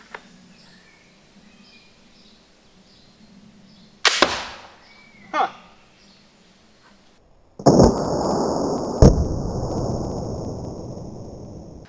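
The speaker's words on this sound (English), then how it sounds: "we're going to shoot each one of these three blades 3 times and then look at the damage" A bolt action ballistic knife launcher fires a blade with a sharp whooshing snap and impact, followed by a second quick hit, then a loud sustained hissing rush with a ringing tone and a bang.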